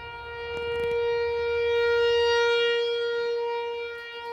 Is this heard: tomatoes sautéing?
no